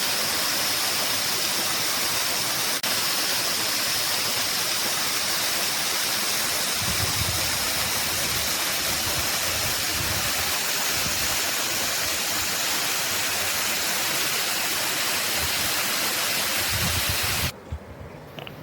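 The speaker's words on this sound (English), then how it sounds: "There is another small waterfall, around 10 minutes walking distance from Nanu Oya Station." A small waterfall near Nanu Oya Station in Sri Lanka's hill country roars as a dense, steady rush of falling water, loud and close, continuous until it cuts off near the end.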